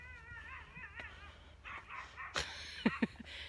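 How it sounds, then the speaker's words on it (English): A few faint dog barks and yips sound from far off over a low countryside hum, with a short burst of louder barking near the end. "Can you hear those dogs in the background?"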